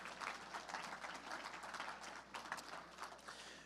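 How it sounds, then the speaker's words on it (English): A harness-racing awards banquet audience applauds the winners with a steady, dense patter of many hands, fairly distant and soft but continuous throughout. "Give one more round of applause to the connections of Sugar and Stead and all of tonight's winners."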